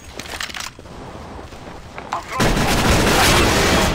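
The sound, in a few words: gunfire in the video game CS:GO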